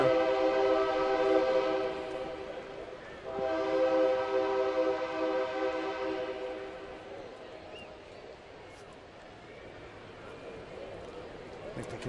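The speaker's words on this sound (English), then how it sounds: "Train whistle." A train whistle sounds in the distance, a sustained multi-tone blast that fades and sounds again over the background murmur of a baseball stadium crowd.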